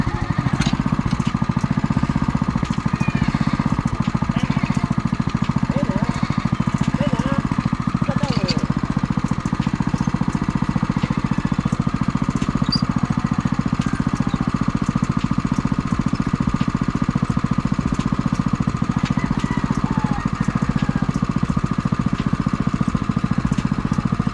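A water pump's small engine drones steadily and loudly throughout, its mid-pitched chugging holding fairly even with no clear rise in revs, while people talk faintly in the background.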